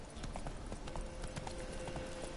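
In Witcher 3, a horse's hooves clip-clop in a steady, quick trotting rhythm that stays faint and even under a low background wash.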